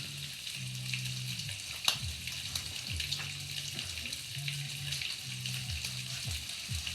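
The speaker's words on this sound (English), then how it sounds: "we wait for the rest of the bacon to cook" Bacon strips sizzle steadily in a pan, a continuous close frying crackle with a brief sharp tick near the start and low hum-like tones underneath.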